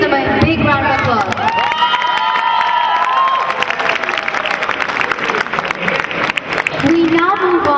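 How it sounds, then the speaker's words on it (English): A convocation audience breaks into loud, sustained applause with cheers and shouts, a dense wash of clapping that fills the hall for several seconds. "Let us please give them a big round of applause."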